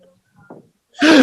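A single sharp, loud sneeze from a person on a podcast, preceded by a faint quick inhale, close to the microphone and heard alone.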